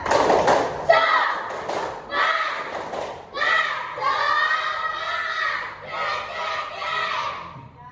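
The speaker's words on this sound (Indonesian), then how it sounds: "Ayo tepuk semangat." A class of children performs the 'tepuk semangat' clapping chant at a primary school, rhythmic bursts of hand claps and thumps mixed with loud shouted chanting voices in repeated phrases.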